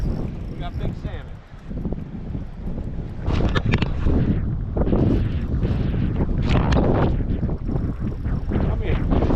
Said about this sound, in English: We got wind, we got waves